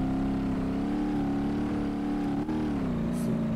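The engine of a 1972 Gavril Bandit in BeamNG.drive drones steadily under throttle, a continuous buzzing hum with layered harmonics and only slight shifts in pitch.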